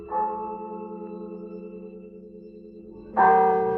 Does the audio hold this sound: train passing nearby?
no